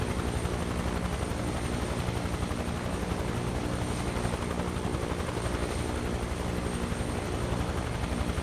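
A helicopter in Microsoft Flight Simulator hovers close by, kicking up dust, with a steady, loud rotor thrum and engine whine that holds constant throughout, no voices.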